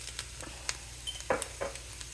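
Broad beans with coriander, cumin and turmeric powders fry in oil with a faint, steady sizzle. A few soft clicks and scrapes of stirring come up close, and no one talks.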